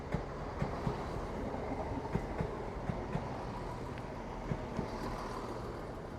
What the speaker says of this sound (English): Arriving in now will be your delayed 12:49 East Midlands Railway service from Nottingham through to Matlock